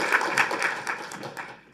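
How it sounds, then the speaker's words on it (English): Audience at a nursing innovation summit claps briefly, a light scattering of applause that fades toward the end, moderately quiet. "I want to just give them a big applause and thank you"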